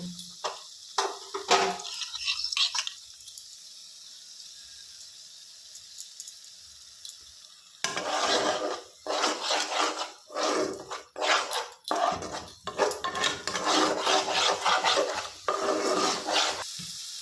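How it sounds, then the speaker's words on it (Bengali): Cashew and melon seed paste being stirred into frying spices in a pan, with scraping, rasping strokes that come in bursts after a quiet stretch, close and fairly loud, and no talk. "এবার আমি উপর থেকে কাজু আর চালমগজ বাটাটা দিয়ে দেব"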